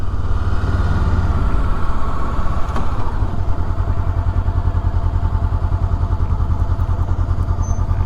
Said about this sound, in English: Lots of guys on bikes.